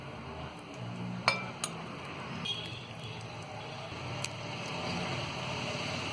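Mutton rogan josh is served out of a cooking pot with a few sharp metallic clinks of a ladle against the vessel, sparse and close, over a steady low kitchen hum.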